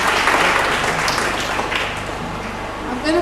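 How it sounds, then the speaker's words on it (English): Sustained applause from a school audience at a Rotary Club District 9141 World Interact Day conference, a dense, steady clatter of many hands filling the hall, holding loud for about three seconds with no voices over it. "Can we give a round of applause for that?"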